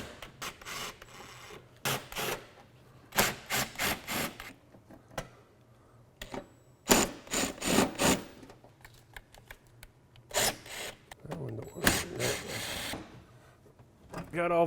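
A power drill backs screws out of an inner fender during a headlight installation. The whirring bursts come in short, irregular spurts between quiet gaps, close up, with occasional talk in between.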